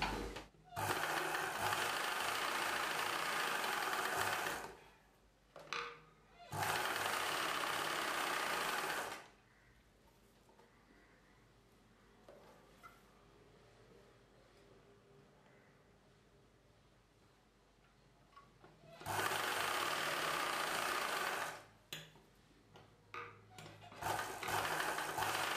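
A sewing machine runs in three steady bursts of a few seconds each while stitching a cross seam on a blouse lining. Quieter stretches between runs carry faint handling noise and a low background hum.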